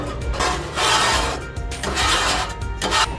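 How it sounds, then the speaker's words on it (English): A metal scraper scrapes debris off a Blackstone griddle, a loud, continuous rasping that surges in long strokes and recurs over a few seconds, with no talking. "we're going to take the scraper, and we're just going to start to scrape all the junk off of here"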